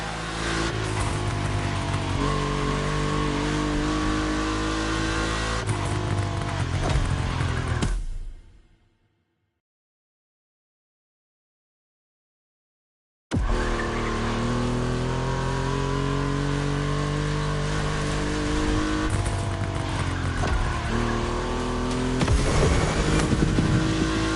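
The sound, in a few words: Volkswagen race cars accelerating on track, The Crew Motorfest video game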